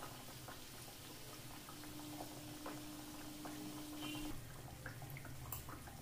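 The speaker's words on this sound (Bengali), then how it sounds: "হিটটা আমি মিডিয়াম রেখেই এটা 4-5 মিনিট ধরে ভেজে নেব।" Nimki snacks frying in a pan of hot oil over medium heat, giving a steady, continuous sizzle and bubbling with small crackles, close and moderately loud with no talking.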